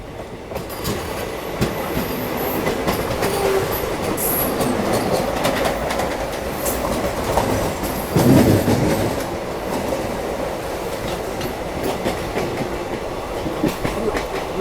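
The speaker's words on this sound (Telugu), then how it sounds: "మన ట్రైన్ వచ్చేసి 3 గంటల 6 నిమిషాలకు మన Anakapalli railway station Simhadri express చేరుకోవడం" Simhadri Express rolling into Anakapalli railway station, a steady rumble of carriages with clickety-clack wheel beats and brief squeals, loud and continuous with a swell near the middle and no talk.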